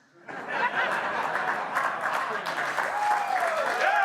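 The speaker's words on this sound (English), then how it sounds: "No, I don't want your sympathy applause." A studio audience at a late-night talk show bursts into steady applause that swells after a quiet start and continues evenly, with a few chuckles and a voice speaking over it near the end.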